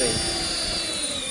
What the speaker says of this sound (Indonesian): Nah ini motor starting.